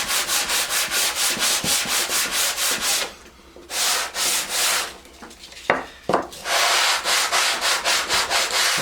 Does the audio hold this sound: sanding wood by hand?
yes